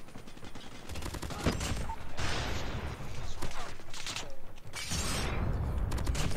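Gunfire in the mobile shooter COD Mobile comes in dense close-range bursts and rapid volleys with mechanical clanks and an occasional shattering crack, loud and continuous, with a voice speaking briefly over the fighting.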